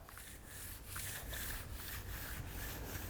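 A hand rubs back and forth over rough, contaminated car paint, making a faint, close, gritty scratching with a steady rhythmic swish and no talk over it.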